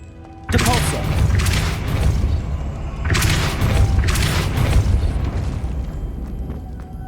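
The Depulso force spell is cast in Hogwarts Legacy, a sudden loud booming blast followed by rumbling, with a second surge of whooshing bursts a few seconds later.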